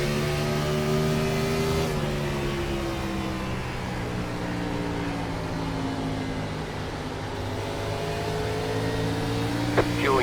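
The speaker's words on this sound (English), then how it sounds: "we'll start opening up the throttle a little more as the run goes on." Gen 4 Cup stock car engine in the iRacing sim at Richmond Raceway holds a steady loud drone with layered harmonics, the pitch dropping sharply once near the start and then sliding slowly as throttle shifts, with no voices over it.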